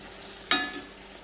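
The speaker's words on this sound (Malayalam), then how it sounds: "ഉടയാതെ വിധത്തിൽ ഇളക്കണം" A single brief scrape of a spoon stirring brinjal curry in a pan, sizzling softly for a moment and then fading, close by.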